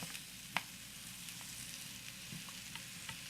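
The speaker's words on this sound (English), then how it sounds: "Just getting a nice caramelization on those carrots. Nice little saute on that ginger." Carrots and ginger sautéing over medium-low heat in a pan, a faint steady sizzle with a few light clicks of a utensil, one sharper tap near the start.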